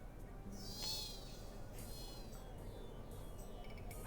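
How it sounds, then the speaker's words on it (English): A cat meows once in the RuneScape 3 video game, a short, faint, rising cry over a quiet ambient background, followed by softer game sounds. "I have no owner, for I'm a free cat."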